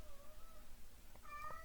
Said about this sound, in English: I apologize if you can hear an angry cat in the background.